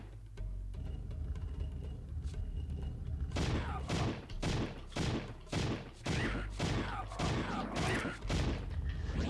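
Rapid bursts of gunfire blast at bugs in a video game, with dense volleys of repeated shots after a quiet stretch, loud and close.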